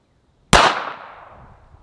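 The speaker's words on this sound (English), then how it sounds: "those last couple shots were definitely getting better" A single sharp gunshot cracks out at a shooting range from a new female shooter in training, loud and close, its echo trailing off over more than a second with no talk.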